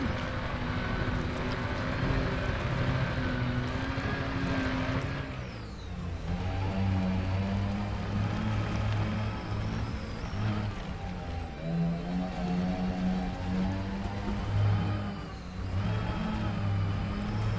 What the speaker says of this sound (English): The engines are having trouble getting up this incline.